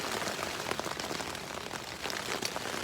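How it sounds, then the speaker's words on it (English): Steady rain driven by gusty wind patters densely on a REI Quarter Dome SL1 tent, a constant close hiss of drops with scattered louder taps and no voices. "Just constant rain with driven rain with the gusty wind."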